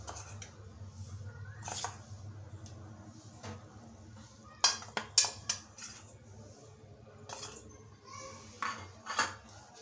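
Potato chila batter with cornflour and besan is mixed in a bowl, giving soft scraping with scattered sharp clinks of a utensil against the dish in small clusters, close but fairly quiet.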